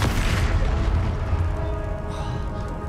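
A Confringo fire spell explodes in Hogwarts Legacy, a deep booming blast that hits hard at once and then rumbles away over a couple of seconds.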